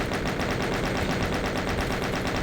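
Chaingunner enemies firing in the video game Doom, a loud, dense stream of rapid rhythmic gunfire running continuously throughout with no pause and no voices.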